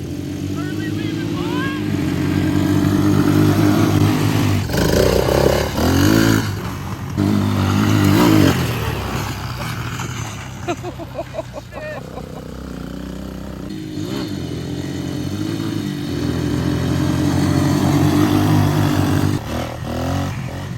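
A GY6 scooter engine revs and pulls away, with rising and falling throttle bursts and clattering running gear close by, while people talk over it.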